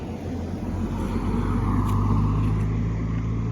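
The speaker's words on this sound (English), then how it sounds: "There's a couple of cars coming" A couple of cars pass on a mountain road through a state park in the Smoky Mountains, a steady, close road rumble that swells in the middle and then holds, with no talking.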